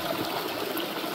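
Water running in a rocky stream, a continuous close rushing and trickling wash that stays steady and even throughout, with no voices.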